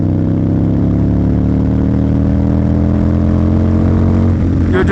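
Harley-Davidson V-Rod motorcycle engine running loud and close, a continuous deep rumble with rising and falling revs throughout.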